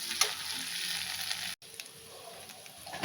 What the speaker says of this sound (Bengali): এবার পনিরটা হালকা করে ভাজবো।